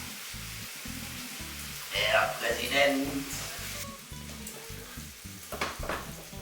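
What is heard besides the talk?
food sizzling in a preheated frying pan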